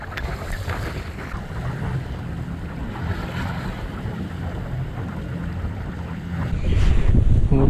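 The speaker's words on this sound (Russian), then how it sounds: "погода сильно поменялась, ветер, волна" Steady wind roaring against the microphone from a fishing boat with waves slapping and churning water nearby, continuous and fairly loud, growing stronger toward the end.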